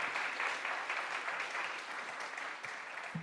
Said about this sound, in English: When Sonia Bergeron, everybody give her a round of applause.